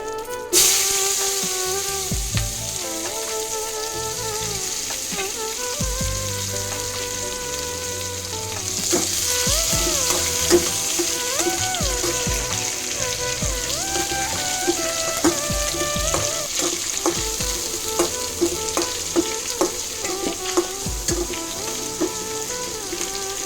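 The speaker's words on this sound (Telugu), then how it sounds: "పలావాకు, చెక్క, లవంగ, యాలకులు అన్నీ వేసాను. వేగాక ఉల్లిపాయలు వేసుకుందాం." Whole spices (bay leaf, cinnamon, cloves and cardamom) fry in hot oil with a steady close sizzle and crackle, while background music plays throughout and no one talks.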